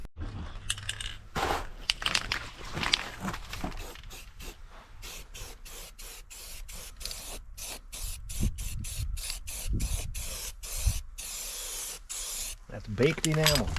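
Spray paint hissing from an aerosol can underneath a vehicle outdoors in the cold, a long series of short rhythmic bursts with brief gaps, close and moderately loud, over faint background noise.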